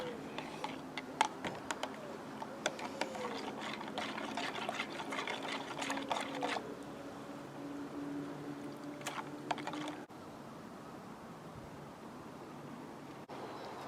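Yeast mixture being stirred for a pop-bottle slug trap, soft irregular clicks and liquid swishing close by, quieter and sparser toward the end.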